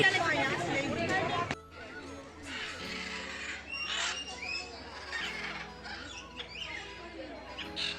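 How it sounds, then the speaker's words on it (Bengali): Macaws squawk and chatter in bursts at the Eco Park zoo in Kolkata's New Town, harsh calls rising in the later seconds while a person talks over them. "সেই সময় ম্যাকাওয়ার আওয়াজগুলো অর্থাৎ মনে হচ্ছে একটা কম্পিটিশন চলছে"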